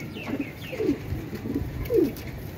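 A loose pigeon, a pair-kept bird, coos in repeated low rolling phrases, about four in a row, close by and clear with no talk.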